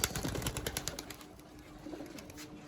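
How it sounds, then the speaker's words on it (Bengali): A Madrasi pigeon gives soft, faint cooing sounds up close, a short quiet burst with no voices. "এই যে একটা পায়রা দেখছেন"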